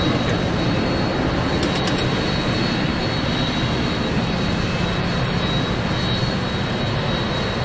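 Boeing 747 jet engines 1 and 2 spooling up together during start with the APU running, a loud steady broadband roar with a high whine, continuous throughout and heard from the cockpit.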